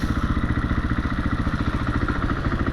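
A 2021 KTM 500 EXC-F dirt bike, uncorked, runs close by with a steady, rapid pulsing engine note that holds even throughout.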